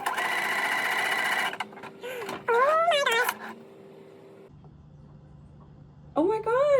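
A home sewing machine shirring fabric with an elastic bobbin, running in a steady close whir for about a second and a half, then stopping; a cat meows a few times afterward.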